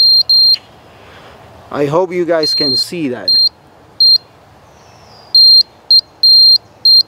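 A small electronic sensor tester for an RC gas engine gives short, high-pitched beeps in an irregular pattern, some single and some in quick pairs, with someone briefly talking between them.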